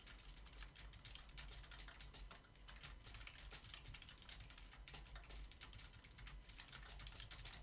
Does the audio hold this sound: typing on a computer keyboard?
yes